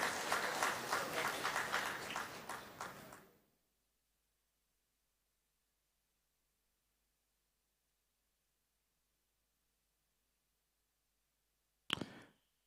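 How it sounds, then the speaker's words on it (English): Applause at a science and technology conference on sustainable living, a few seconds of dense clapping from the audience that fades out, then long silence and a brief final burst near the end. "Once again, round of applause,"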